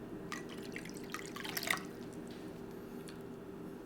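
Water is poured into a vinegar, rice vinegar and sugar brine for smoked lingcod, giving a brief soft splash and trickle of drips over a faint background hum.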